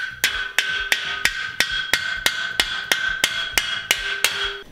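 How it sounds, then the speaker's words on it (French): Rapid, evenly spaced hammer strikes driving wall anchors through a furring strip during insulation work in a troglodyte farmhouse renovation, about a dozen sharp ringing blows close by. "on va venir percer à travers et frapper nos chevilles"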